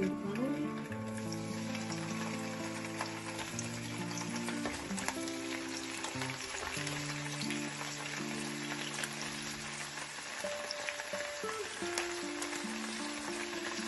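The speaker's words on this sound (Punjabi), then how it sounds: "ਹੁਣ ਆਪਾਂ ਇਹਦੇ 'ਚ ਪਨੀਰ ਪਾਵਾਂਗੇ," Paneer sizzles and fries in a pan for Punjabi-style shahi paneer, a steady soft crackle like light rain, with a low-pitched musical tone running beneath throughout.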